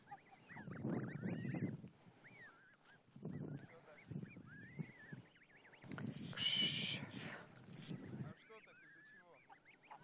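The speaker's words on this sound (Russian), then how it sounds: "Сидишь, пасешь гусей." A flock of geese being herded outdoors honks and cackles in repeated bursts, fairly near, with several birds calling at once and a louder cluster midway.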